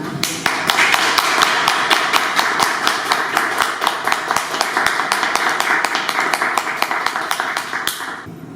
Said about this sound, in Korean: 김성윤 교수님을 여러분들 힘찬 박수로 모시겠습니다